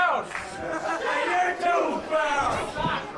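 Wrestling crowd at an NECW TV independent show jeering, a dense mass of shouting and booing voices swelling and falling, loud and close.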